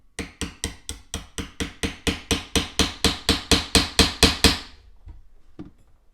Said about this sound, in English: a small enough hammer that I can drift that out